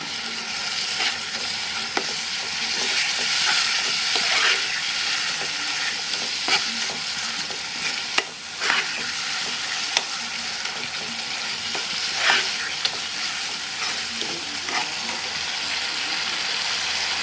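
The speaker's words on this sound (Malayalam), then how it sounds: "നന്നായിട്ടൊന്ന് ഇളക്കി കൊടുക്കാം" A spoon scrapes and stirs steadily through chicken curry sizzling in a frying pan after water is added, with occasional sharper knocks against the metal; no voices.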